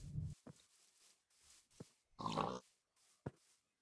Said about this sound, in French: j'entends des cochons